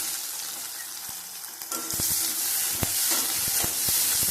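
Green chillies and washed curry leaves sauteed in a pan for a Madurai-style shallot kuzhambu, with a steady sizzle that swells louder as the leaves go in, and sharp scrapes and taps of stirring.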